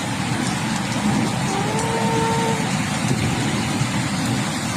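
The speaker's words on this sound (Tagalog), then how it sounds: "Ang lakas ng ulan dito" Heavy rain pours onto a flooded street in front of a shop, a dense and continuous hiss with a low rumble underneath that may be passing traffic, holding steady and loud throughout with no voices.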